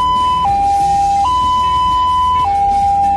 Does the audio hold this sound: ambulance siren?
yes